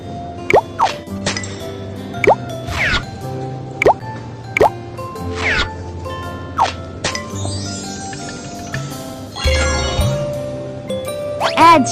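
Cartoon syrup drips onto ice cream in Baby Panda's Cafe game: a string of bright, bubbly plops and drip tones, some with rising pitch, with a clink, a short pouring fill and a few chimes, loud and close with no talk.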